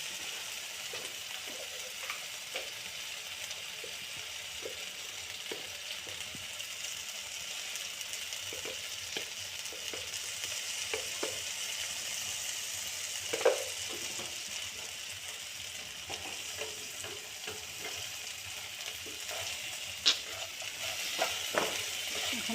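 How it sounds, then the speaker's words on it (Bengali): Food sizzles steadily as it fries in a pan with a little turmeric, with occasional scraping and clinking from stirring over the constant hiss. "এখন ভালো করে নেড়ে চেড়ে অল্প ঢেকে দেবো, সেদ্ধ হয়ে যাবে।"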